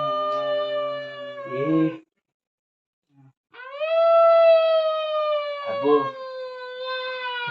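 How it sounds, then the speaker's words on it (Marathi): Long, loud, wavering dog howls carry on close by, broken by a brief silence before another sustained howl rises. "इकडनं आवाज येतात कोण कुत्री असते"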